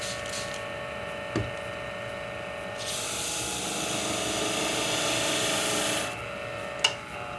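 Shear-sharpening plates rubbed clean with a dry abrasive block, a steady loud rasping scrub lasting several seconds, close up, with a couple of sharp knocks before and after and no speech.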